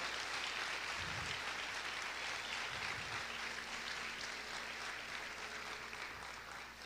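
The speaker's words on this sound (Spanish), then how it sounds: "Vamos a aplaudir fuerte a nuestro Dios." A church congregation claps loudly and steadily in praise during a Spanish-language worship service, a dense wash of applause lasting throughout with faint low murmurs beneath.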